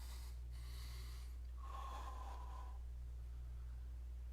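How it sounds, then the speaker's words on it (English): A slow, deep breath drawn in and let out through the nose while holding a forearm plank in a yoga class, soft and close over a steady low hum. "Nice deep breaths here."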